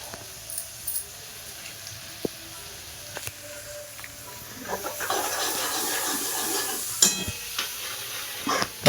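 Chopped onion sizzling and frying in a pan for pav bhaji, with a spoon scraping and stirring; quiet scattered clinks at first, then a steady close hiss with stirring strokes for the last few seconds.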